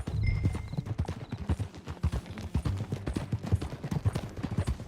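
Horse hooves clip-clop steadily at a ridden pace in the video game Red Dead Redemption 2, a close, brisk rhythm of hoof strikes with a faint tack jingle and no talking.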